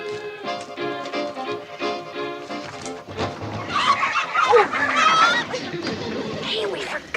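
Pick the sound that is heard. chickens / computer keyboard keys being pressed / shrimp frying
chickens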